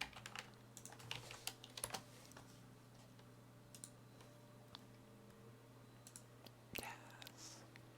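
Computer keyboard typing as short bursts of light clicks and taps, fairly quiet against a steady low room hum, with a few louder key strikes scattered through.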